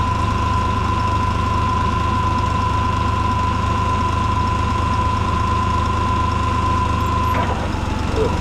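A forklift engine idles with a steady low rumble and a constant mid-pitched drone, loud and close throughout, changing briefly near the end as the machine starts to move.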